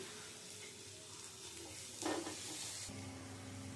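Steady frying sizzle and hiss of onion and tomato in a hot pan, with a brief louder scrape of stirring partway through, close and continuous.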